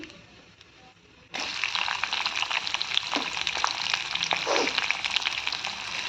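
Chopped onion dropped into hot oil in a home kitchen pan with curry leaves, starting a loud, steady sizzle after a second of quiet, with occasional stirring scrapes.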